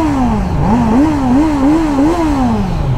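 A Kawasaki Z900 motorcycle engine revving close by, loud and alone, with the pitch climbing and dipping through several quick throttle blips before winding down.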